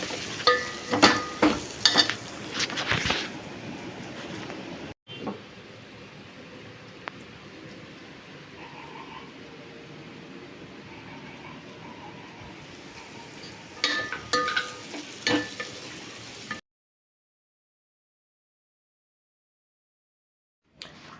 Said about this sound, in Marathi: आणि व्यवस्थित तेलात त्यांना परतवून घ्यायचं.